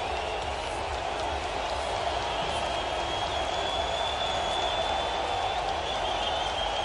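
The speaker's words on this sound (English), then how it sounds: "Crowd comes to their feet." Stadium crowd at an NFL game rising to its feet, a steady broad roar of cheering and noise that holds evenly throughout, with announcer speech over it.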